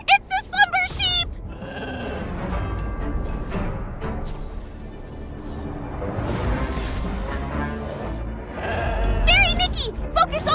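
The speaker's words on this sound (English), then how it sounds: "Ah, it's the slumber sheep!" Slumber sheep in the video game Infinity Nikki bleat in short, wavering cries at the start and again near the end, over a busy game soundtrack with voices talking in between.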